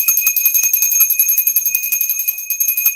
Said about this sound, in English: Where is my bell?